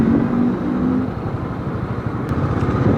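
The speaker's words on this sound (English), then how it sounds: "Oh my God, lot of traffic today." Road traffic on the way to Secunderabad, with engines of cars and motorcycles droning and revving close by in a dense, continuous rumble, and a short horn note early on.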